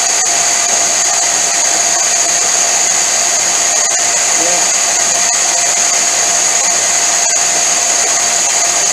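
Repaired 1 inch belt sander running steadily with a smooth, even motor whine and a bright high hum, loud and close, with no knocking and no talking.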